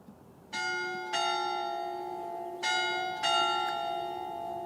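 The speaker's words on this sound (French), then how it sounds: "que seul le son des cloches vient perturber." Church bells in Beaune in Burgundy ring out clearly in two paired bursts, each strike leaving a bright, sustained metallic ringing that fades slowly over a quiet background.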